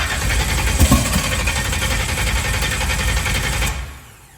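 A big block twin turbo Ford Fairmont engine cranks and runs rough on a flooding fuel mix, a loud continuous mechanical churn with a brief surge near the start, cutting out just before the end.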